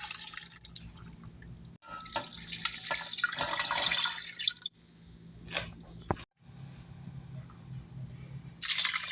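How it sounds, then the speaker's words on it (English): Water pours from a tap into a stock pot holding chicken wing tips and vegetables for broth, a close, splashing stream that swells and fades in bursts, with brief pauses and a final gush. "Finally, add water to make sure that your chicken and all the vegetables are covered."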